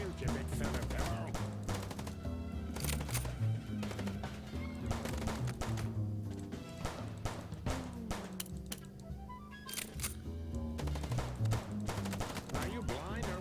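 Bursts of gunfire during a car chase in the noir video game Chicken Police, sharp repeated shots cracking over a thick bed of engine rumble and music-like tones, loud and close throughout.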